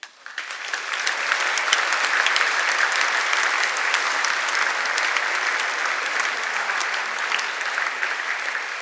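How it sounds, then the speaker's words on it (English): Sustained applause from a concert audience after a brass band performance, steady dense clapping that holds at an even level for the full length without letting up. "can we please give one more big round of applause"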